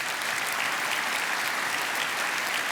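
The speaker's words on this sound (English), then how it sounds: "And so, yeah, you can clap for that." A church congregation at a commemoration service applauds in a dense, steady wash of clapping that holds evenly throughout, with no voices standing out.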